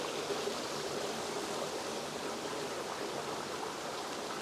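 A small tributary stream flowing under a bridge on a forest hike toward Savage Falls, giving a steady, close rush of water with an even, continuous level throughout and no voices.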